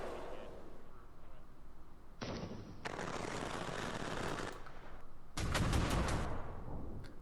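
27mm cannon fire from Su-34 jets in a combat simulation game, long loud bursts of rapid gunfire that start and stop in several blocks, with a steady rumble running underneath.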